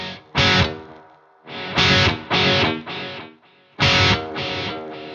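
Loud distorted musical bursts through a BOSS Space Echo tape echo effect, starting and stopping abruptly, each trailing into repeating echoes that fade between hits.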